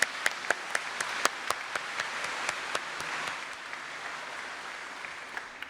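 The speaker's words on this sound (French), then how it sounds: "je crois qu'on peut applaudir le Père Goupi" Audience applause for Father Goupi at a tourism Mass in the Vallée de Ferney, a steady wash of many hands with sharper individual claps standing out, fading slightly toward the end.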